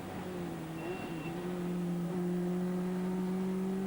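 Racing cars in a 1997 British motorsport race hold steady engine tones on track, a continuous mid-distance drone with a slight pitch rise as one car chases another.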